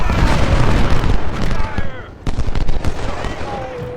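Dense Civil War battle din from the game Ultimate General, with booming cannon fire and crackling volleys overlapping in loud bursts, a short lull, then more rapid firing, as a person speaks over it.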